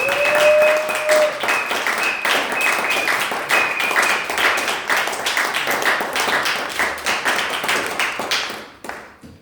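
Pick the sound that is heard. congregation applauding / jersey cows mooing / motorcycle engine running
congregation applauding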